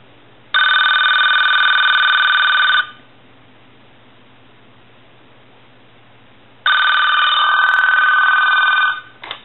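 An AT&T Trimline 530 telephone rings in two long electronic bursts separated by several seconds of quiet, loud and close, each burst a steady trilling warble.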